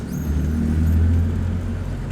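A BMW E36 with a welded differential drives along on its first test drive, a steady close engine drone and road rumble rising and easing gently, no voices.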